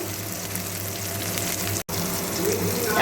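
Fish roe and chopped mango pieces are stirred in a hot pan with salt and turmeric, making a steady close sizzle with a brief dropout partway through and a slight swell at the end.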